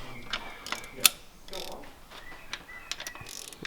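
A hand ratchet cracking loose the camshaft cap bolts on an RB25 Neo engine, giving short bursts of clicking pawl and metallic ticks in an uneven rhythm, close up with a sharp clack partway through.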